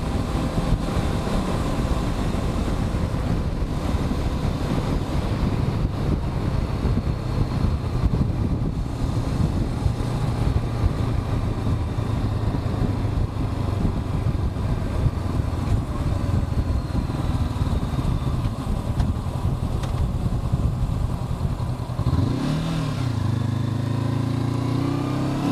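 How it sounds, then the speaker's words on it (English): A 2021 Honda CB500X adventure motorcycle engine drones steadily while riding, rising and falling with throttle under persistent wind buffeting, before a sharp rev swell near the end. "Really wakes up in the upper RPMs. It's got a lot of torque down low, but really pulls hard up top also."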